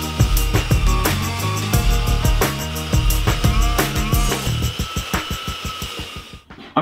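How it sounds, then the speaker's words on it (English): A belt sander runs along a wooden countertop with the grain, a loud, close motor drone broken by rhythmic scraping strokes that grow into regular pulses toward the end before cutting off. "I'm finished with the belt sander"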